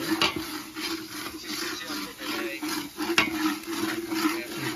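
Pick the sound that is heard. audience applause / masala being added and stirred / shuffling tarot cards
masala being added and stirred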